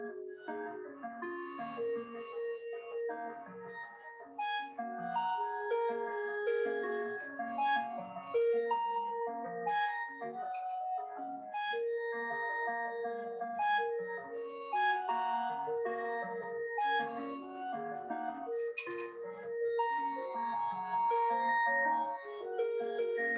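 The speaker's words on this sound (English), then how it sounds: "You can basically hear the entire genetic code as a sound script." A DNA sequence rendered as sound: a steady, continuous stream of bright melodic tones shifting in pitch over a low bed, loud and uninterrupted throughout with no voices.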